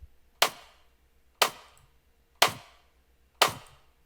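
Four punchy clap and snare drum samples hit one per second, each a sharp bright crack with a short gritty tail, thickened by parallel compression; evenly spaced and alone with no talk.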